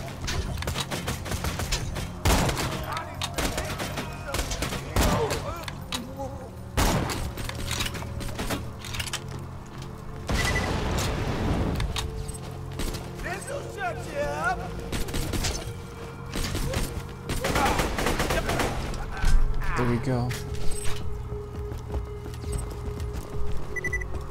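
Gunfire in the video game Borderlands 2 cracks in repeated sharp bursts and rapid volleys across a busy mix of effects, with a voice talking at times.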